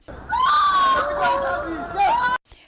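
A woman journalist covering street protests screams in fear after being shot three times in the leg outside a bank; one loud, sustained, wavering high cry lasts about two seconds before cutting off sharply.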